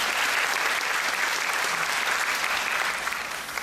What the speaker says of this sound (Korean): 우리 성가대에게 수고했다고 한번 박수로 격려해주시기 바랍니다.